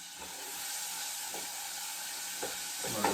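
Onions sizzle steadily in a pan on a stovetop burner while ramen is being prepared, a constant close hiss with a few soft stirring bumps and no talk.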